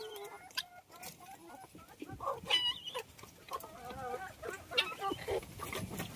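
Laying hens kept for eggs cluck and call steadily at close range, with overlapping, irregular clucks and a few louder squawks throughout.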